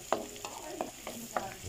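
Garlic frying golden brown in a pan for a spicy creamy shrimp dish, a soft steady sizzle broken by a few light scraping stirs.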